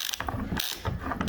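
A large wrench ratchets on a part during a bus teardown, giving several quick bursts of clicking pawl, close and fairly loud, with short pauses between strokes.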